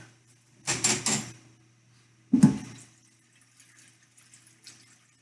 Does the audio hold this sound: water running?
yes